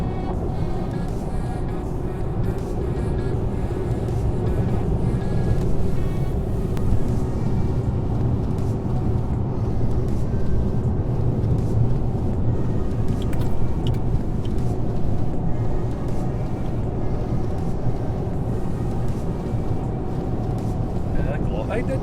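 Inside a Nissan Navara 4x4 fitted with Ironman 4x4 Pro Forge upper control arms, the engine and tyres give a steady, loud, even drone as the truck rolls over an undulating road.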